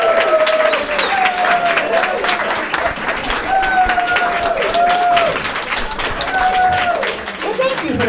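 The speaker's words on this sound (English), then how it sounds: "thank you for that applause" Audience applause at a community event following a performance by a seniors' singing group, steady crowd clapping filling the whole stretch, with talk and voices mixed in over it.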